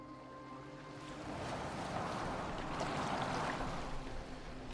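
A boat moving over water in Assassin's Creed Valhalla: a steady wash of waves and rushing water swells under a faint tonal hum, close and continuous, with no voices.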